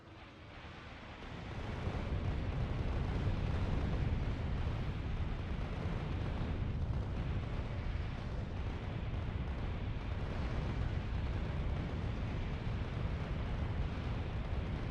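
Continuous automatic gunfire from turret gunners in the game Factorio, a dense, steady rumbling barrage that swells in after a second and holds loud and unbroken throughout, with no talking.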